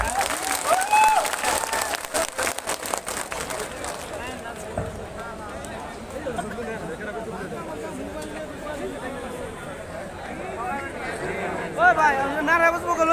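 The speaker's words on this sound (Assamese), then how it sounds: "ৰিহান আহমেদ আৰু ছফিয়া আহমেদৰ বাবে হাত চাপৰি।" Applause at an election meeting at Goraimari Town Club in Assam, a burst of clapping from the crowd for two honorees that fades into murmuring chatter and voices over the following seconds.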